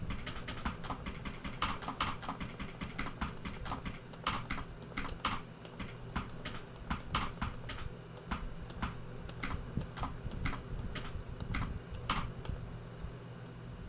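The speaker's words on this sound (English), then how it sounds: "And that's what mashing on a keyboard sounds like." Computer keyboard keys being mashed rapidly, giving a dense, irregular clatter of close, loud key strikes with short bursts and pauses throughout and no talking.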